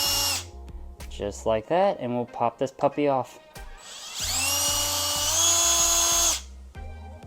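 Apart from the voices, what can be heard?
power drill on low setting unscrewing screws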